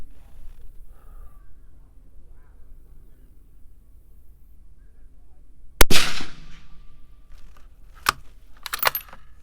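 A .223 precision rifle firing 77-grain TMK handloads outdoors: one sharp, loud report cracks out after a quiet stretch, followed by a couple of shorter, fainter bangs and clatters.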